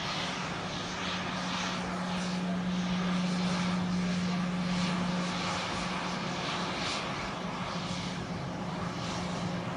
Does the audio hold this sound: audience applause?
no